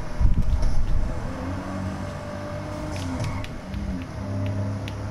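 A car engine driving in Grand Theft Auto V, a fairly loud low rumble that swells at the start then settles into a steady drone with wavering engine tones.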